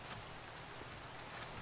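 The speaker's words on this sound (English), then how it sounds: "it's raining" Rain in the Minecraft video game hisses as a soft, steady broadband patter, faint and continuous with no talk over it.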